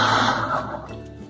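A kitchen blender whirring as it purees corn for pamonha, a dense steady roar that begins loud and tapers off as the motor slows, with no voices.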